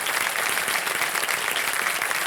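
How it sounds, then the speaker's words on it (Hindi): Dense, steady studio audience applause on a TV quiz show set, loud and close, a short continuous burst of many hands clapping with no talk over it. "तालियां बज जाए इनके लिए जोरदार।"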